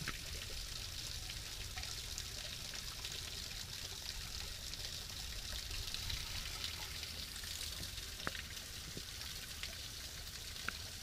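Water flows steadily from an old mountain spring fountain where it emerges from the mountainside, a constant broadband rush and trickle running without a break, moderately close, with a few faint knocks near the end and no voices.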